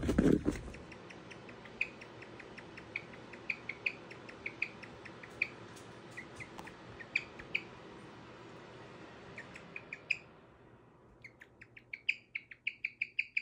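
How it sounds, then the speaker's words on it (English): A pet bird chirps at night in a home, giving short, sharp, high chirps at a steady, irregular pace that carry close to the microphone and run over a low background hum. "Why are you chirping?"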